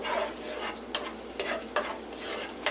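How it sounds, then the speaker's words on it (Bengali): Raisins are stirred in hot ghee while making jorda shemai, a soft sizzle broken by several scraping stirs of a spoon against the pan. "এরপর আমি কিশমিশ দিয়ে দিব, বাদামগুলো পরে দেব। কিশমিশ দিয়ে জাস্ট একটু নেড়ে"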